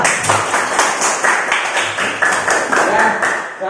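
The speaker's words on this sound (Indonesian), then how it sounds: "Tepuk tangan untuk kelompok utang." A classroom group claps together in a quick, even rhythm at close range, the applause holding steady for several seconds.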